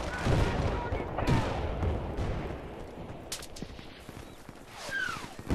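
Heavy machine gun fire in Battlefield: Bad Company 2, a dense, rattling stream of shots with booming echoes throughout, mixed with ambient battle noise and occasional voices.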